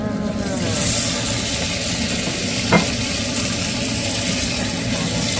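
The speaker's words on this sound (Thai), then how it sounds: "เราก็จะใส่ปลาลงไปจ้า" Fish is added to a Thai fish curry cooking in a pot, producing a steady, close sizzling and bubbling with a brief soft clunk as it goes in, continuous throughout with no talk.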